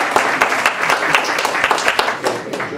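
An audience at a Middletown area town hall meeting in Lake County claps in a warm, steady round of applause, with dense overlapping hand claps filling the room throughout.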